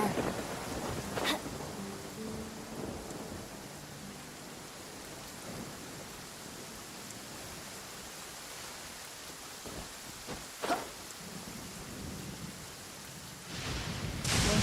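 Steady heavy rain hisses throughout a Genshin Impact thunderstorm, with a sharp thunder crack early, another near the middle and a rumbling swell at the end.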